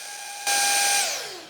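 Ryobi handheld blower running on a 4 amp hour battery, a tonal whine that jumps suddenly louder into a rushing roar, holds briefly, then winds down in pitch, close and alone.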